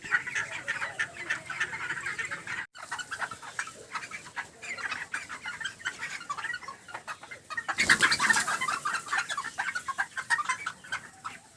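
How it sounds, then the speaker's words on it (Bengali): Frightened chickens clucking nonstop inside a poultry farm with a snake loose among them, a dense, close chorus of agitated clucks and squawks that briefly swells louder near the end. "মুরগিগুলো একদম ভয়ে আতঙ্ক হয়ে গেছে।"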